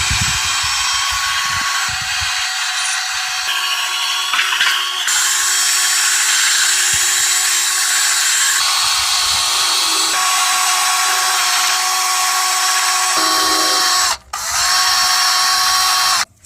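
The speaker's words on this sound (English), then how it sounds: "I'm just going to put this back on so I can wire brush the caliper" A power wire brush grinds loudly against the brake caliper of a Lexus ES300, a steady high-pitched whirring scour that shifts in tone as pressure changes and cuts out briefly near the end, with no speech.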